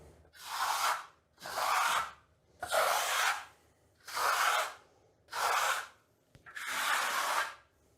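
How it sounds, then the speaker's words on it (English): Trowel strokes give a soft burnishing pass over Vasari Marmorino lime plaster on a wall, six even rubbing sweeps of about a second each with short pauses between them, close and fairly quiet, with no talk. "just give it a soft burnish, just a soft compression"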